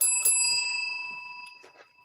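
A bright bicycle bell rings twice in quick succession, then its metallic tone lingers and slowly fades, with faint clicks near the end.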